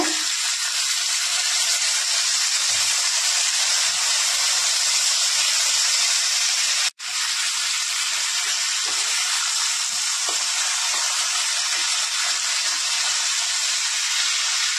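Cumin seeds, panch phoron, green chili and capsicum sizzle in hot oil for a Bengali mixed vegetable dish. A loud, dense, continuous hiss carries on, with one brief cut midway.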